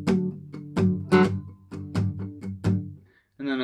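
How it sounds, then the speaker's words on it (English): Muted strumming on an acoustic guitar, a steady rhythm of short percussive chord strokes that stop briefly near the end before one more strum comes in. "in the verses, you're going to do muted strumming that'll sound like this"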